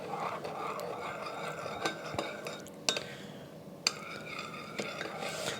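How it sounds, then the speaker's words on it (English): A spoon scrapes and clinks against a pot while a garlicky, salted mixture is stirred, giving soft, quiet, irregular scrapes with a few sharper taps and no talking. "I'm gonna do a stir in a second."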